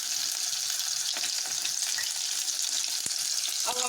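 Vegetable cabbage rolls fry in a pan of oil, a steady crackling sizzle holding throughout with a few brief sharper pops near the end.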